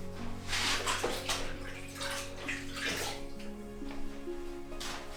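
A wet sponge drawn along the gummed side of paper tape to loosen the glue before stretching watercolour paper, giving a close, continuous watery wiping and splashing sound with a steady background hum.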